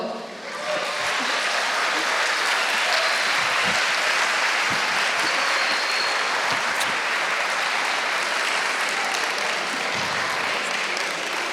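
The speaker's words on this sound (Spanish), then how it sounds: "la vamos a recibir con un fortísimo aplauso" Loud, sustained applause from a live audience greeting a performer on stage, dense clapping filling the room steadily for over ten seconds with a few louder individual claps and faint voices underneath.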